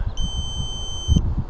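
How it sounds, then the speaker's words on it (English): Electronic flight timer on an RC VTOL aircraft beeping, a single sustained high tone lasting about a second over steady outdoor noise. "Oh, there goes my timer, see?"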